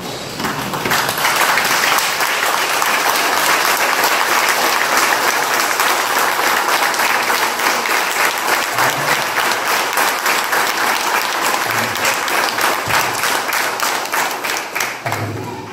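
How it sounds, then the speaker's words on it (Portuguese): A standing church congregation breaks into sustained, dense applause that stays loud and even for about fifteen seconds, many hands clapping together in a large room before tapering off slightly at the end. "E eu peço que vocês manifestem essa gratidão agora, ficando de pé e dando uma salva de palmas."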